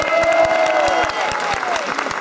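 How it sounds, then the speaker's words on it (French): An audience at a French gala ball applauds steadily, loud close clapping with some crowd murmur and a voice briefly rising above it. "Vous pouvez l'applaudir aussi"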